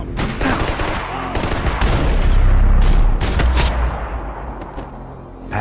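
Dense, sustained gunfire from Max Payne 3: overlapping shots and heavy booming bursts build into a loud, continuous barrage, then ease slightly toward the end.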